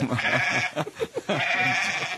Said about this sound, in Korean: 염소 찾느라고 시간이 좀 걸렸습니다.